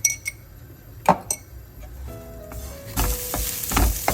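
White flattened rice (aval) roasting in ghee in a pan for aval kesari, with a few sharp clinks of utensil on metal, then a quiet stretch, and a louder sizzle swelling near the end, close up and without talk.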